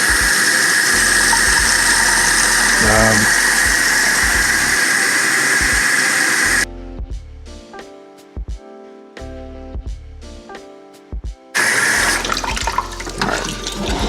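Warm water gushes loudly from a faucet into a garage sink, a steady rushing stream that cuts off halfway, leaving a few drips and clanks before the tap runs again.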